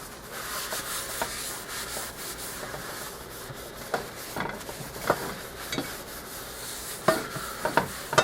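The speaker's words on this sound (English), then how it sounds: "you just want to take a towel and almost wipe it all the way back off" A towel rubbing excess lard off a cast iron skillet in steady, close scrubbing strokes, with a few sharper scrapes and knocks toward the end, no voices.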